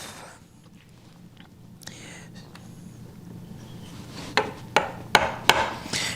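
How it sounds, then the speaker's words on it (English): A sharp wood chisel is struck down into the end grain wall of a hand-cut mortise for a mortise and tenon joint. Faint scraping comes first, then four crisp, close chopping knocks near the end. "this is where you want your chisel to be sharp, because you're coming down on an end grain wall and you need it to bite"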